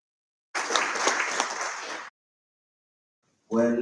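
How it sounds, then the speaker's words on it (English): An audience at an urban agriculture gathering gives a round of applause for a Deputy Minister, a steady burst of clapping lasting about a second and a half, followed by silence and then a voice beginning to speak. "Can we please once more give a round of applause to the Deputy Minister?"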